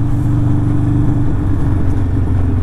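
A Harley-Davidson Sportster 48 fitted with a Two Brothers 2-to-1 exhaust on a test ride, its engine giving a loud, steady low rumble with a slight rise in revs and no talk.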